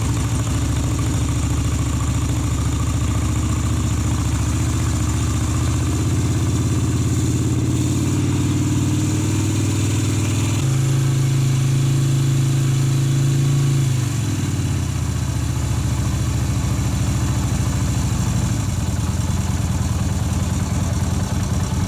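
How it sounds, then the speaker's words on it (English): A Yamaha Virago motorcycle engine idles nearby just after a choke start, a loud continuous low rumble that shifts pitch partway through, rising briefly before settling back to a steady throb. "the old Virago's idling all by itself."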